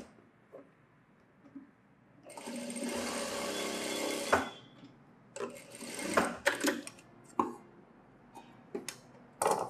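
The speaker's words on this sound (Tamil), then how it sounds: "இப்போ ஊக்பட்டியும் ஐப்பட்டியும் தைச்சிருவோம்." A sewing machine stitches a blouse, first running in a sustained whirring burst, then in shorter stop-start runs with sharp mechanical clicks between them, close by.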